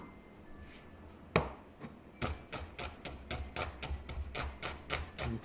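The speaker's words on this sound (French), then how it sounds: "pour tailler l'oignon, je vais juste le couper ici, enlever cette partie-là, puis là, je vais essayer de l'émincer le plus finement possible" An onion being finely sliced with a sharp knife on a board: after a single knock, a quick even run of about a dozen crisp cuts, close and clear, with no voices.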